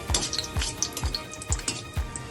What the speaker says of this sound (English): Now we are frying this momo